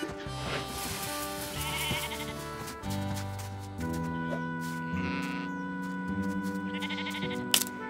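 Sheep bleat several times over a steady musical backing, the calls rising above the tune at intervals.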